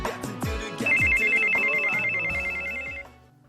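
A mobile phone ringtone rings in a classroom as a melodic, repeating electronic tone. It is fairly loud and starts over other sounds, then cuts off after a few seconds.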